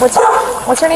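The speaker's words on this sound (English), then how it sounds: "Sorry about my dog." A pet dog barks loudly and close by in a few sharp yips over a man's speech during a police encounter with a former sheriff.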